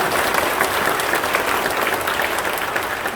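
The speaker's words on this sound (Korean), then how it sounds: "근데 오늘은 박수 치는 날이에요." A church congregation at a new sanctuary dedication and pastor installation service breaks into thick, sustained applause, many hands clapping together at a steady level throughout.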